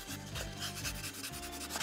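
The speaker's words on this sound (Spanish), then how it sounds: "Tomamos una lija y vamos a suavizar todo el contorno." Sandpaper rubbed along the contour of a piece, repeated rasping strokes in a quick back-and-forth rhythm, close and fairly quiet with no talk.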